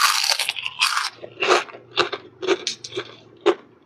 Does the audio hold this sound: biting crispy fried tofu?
yes